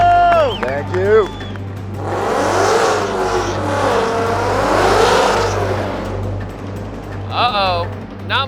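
A Ford Mustang engine roars and revs hard accelerating down a drag strip, building loudly over several seconds, with a crowd and voices around it before and after.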